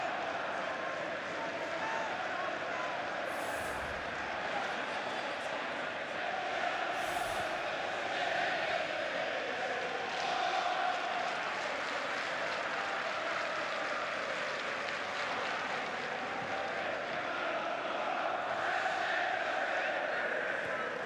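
A football stadium crowd at a League Cup night match at the Etihad, with about 3,000 travelling Newcastle United supporters in full voice: a faint, steady roar of chanting and crowd noise that continues throughout.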